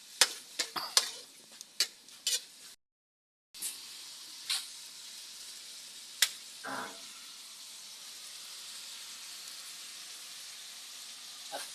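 A spoon stirs dinuguan, a Filipino pork blood stew seasoned with soy sauce, in a pot. Scraping and clinking taps come at first, then a steady sizzle after a brief gap, with one more scrape later. No talking.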